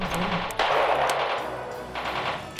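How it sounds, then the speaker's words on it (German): Rapid bursts of gunfire hit a unit in a military strategy video game, sharp cracks and rattling volleys over a few seconds, loud and close with rumbling between shots. "der wird schon wieder beschossen."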